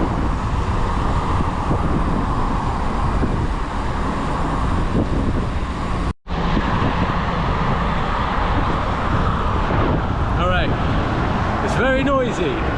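Dense, steady roar of motorway traffic heard from a gravel bike in Kent, broadband and unbroken with heavy wind buffeting the microphone, and someone speaking faintly underneath near the end.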